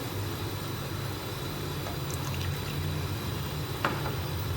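Water is poured into a pan on a low stovetop flame while making chana dahi chaat, a steady continuous wash of liquid running for several seconds at moderate, close level with no talking.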